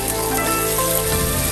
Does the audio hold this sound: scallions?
yes